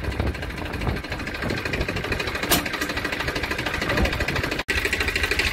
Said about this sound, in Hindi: तो चलो अब चलाते हैं ट्रैक्टर।